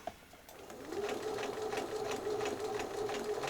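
A sewing machine stitches slowly along a seam with open seam allowances on a rain cape, its motor whirring steadily after a brief start, close and alone.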